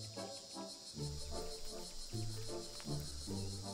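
Cicadas call to attract a mate, a loud continuous buzzing drone that pulses in waves over a steady insect chorus, with no talking.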